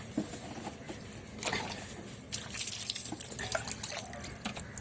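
Water is poured over a pet during a bath, splashing and pattering in irregular bursts close by, with drips between the louder pours.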